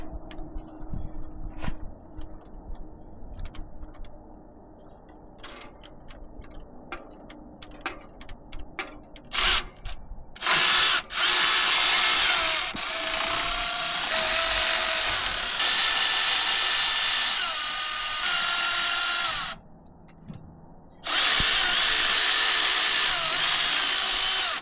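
Power tool working a half-inch bolt off the radiator fan of a 1969 Chevy C20 pickup: scattered clicks and short bursts at first, then loud sustained whirring runs broken by a brief pause.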